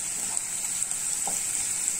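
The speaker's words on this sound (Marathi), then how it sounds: "ही पण आपल्याला याच्याबरोबर हलकीशी परतून घ्यायची आहे" Onion sautéing in a pan with ginger-garlic paste and green chilli, cooked on a tawa: a continuous even sizzle, close and steady, with a faint stir.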